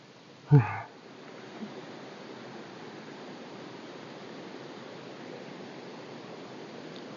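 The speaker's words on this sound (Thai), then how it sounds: "ก็เป็น ลำธารขนาดเล็กนะครับ" A small clear stream flows near a temple pavilion deep in forest, a steady soft rush of water close by after a brief bump at the start, with no talk.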